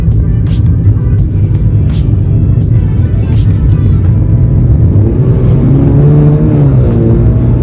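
BMW F30 320i four-cylinder sedan, tuned to 350 hp, accelerating with a steady loud engine drone that rises in pitch toward the end, heard from close by under continuous road rumble.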